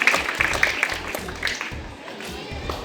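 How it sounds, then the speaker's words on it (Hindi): Applause at a school event for a student placed second, a burst of scattered hand clapping from a gathered crowd that fades and then swells again, mixed with background murmur. "तालियों की आवाज।"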